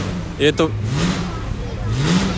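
At an outdoor classic car show, a vintage car engine starts and revs in two rising pulls over crowd noise, with brief sharp clicks just before.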